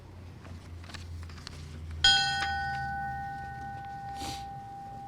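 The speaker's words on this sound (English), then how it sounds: "Ringing the bell will be his granddaughter, Andrea" A single memorial bell struck once at a fallen firefighter ceremony, a clear bright ring that hangs and slowly decays, with faint crowd shuffling in the background.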